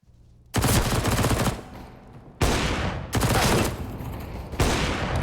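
Pistol gunfire in the video game CS:GO during a competitive match on the Mirage map, heard as dense, loud bursts of rapid shots in several long volleys separated by short pauses.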